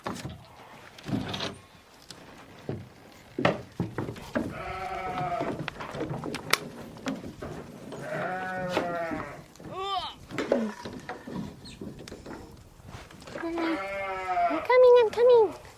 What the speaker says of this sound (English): I'm just watching a bunch of goats on the run.